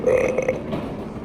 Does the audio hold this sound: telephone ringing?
no